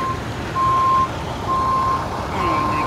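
A truck manoeuvring in a campground car area in the Florida Everglades, with regular reversing beeps sounding four times over a steady engine rumble and outdoor noise.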